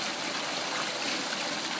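Spring water at a drinking-water spring flows in a steady, close, even rush that fills the whole clip without a break.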